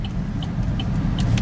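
A 2013 GMC Terrain Denali AWD with a four-cylinder engine drives on a test drive, giving a steady low engine and road rumble that holds even and close throughout, with faint higher ticks above it.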